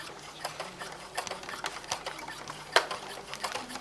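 Close, rapid rhythmic clatter of a sewing machine stitching a quilt block with a 7 mm seam, running continuously at an even pace with one sharper click near the end.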